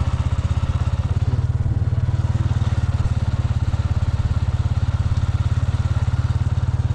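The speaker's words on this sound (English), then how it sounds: "that's Hello Baby on the motorbike." A motorbike engine drones steadily at close range while riding, with a rapid, even low-pitched put-put pulse and road rumble running unbroken throughout, no speech over it.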